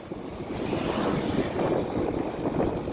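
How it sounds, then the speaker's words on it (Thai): Strong wind buffeting a microphone aboard a towing boat on open water, a low, rushing roar that swells and holds steady for a few seconds with no talking. "ลมแรงสักหน่อยนะคะท่านผู้ชม เสียงลม"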